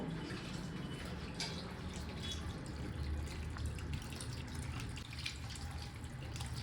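Raw chicken being washed under a running kitchen tap gives a soft, steady patter and splash of water, faint and continuous with no talk.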